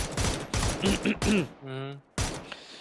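Gunfire crackles in PUBG on the Rondo map during a tournament match, with dense bursts of shots close together, a short pause, then another burst as a voice briefly sounds between them.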